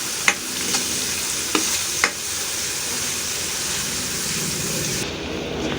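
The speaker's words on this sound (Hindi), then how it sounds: "इसे अच्छे से भून लेंगे लहसुन को बीच में 2 से 3 मिनट तक" Garlic paste frying in a pan for rice kari, a steady broadband sizzle throughout with a few sharp scrapes and knocks of a spoon stirring it, loud and close with no talking.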